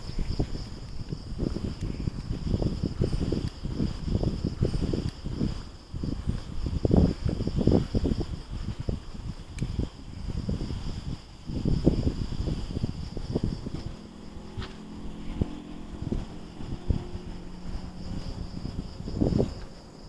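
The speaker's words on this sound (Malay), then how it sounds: "Oh, angin kuat sekarang ni." Strong wind on Bukit Ampang buffets the microphone in steady, rumbling gusts that rise and fall for about twenty seconds, loud and close, with no voices.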